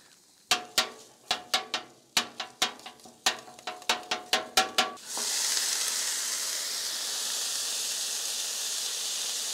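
Pork sausage hitting a hot Weber Slate rust-resistant griddle: a dozen sharp metallic clicks first, then a loud, steady sizzle that holds evenly to the end.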